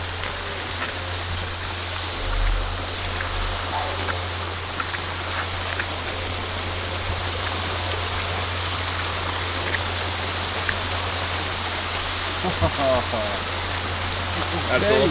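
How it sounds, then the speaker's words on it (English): A waterfall in the Kimberley region of Australia gives a steady, full rushing roar of falling water that fills the whole stretch without a break, with faint voices mixed into the noise. "Oh, cool. It's a waterfall."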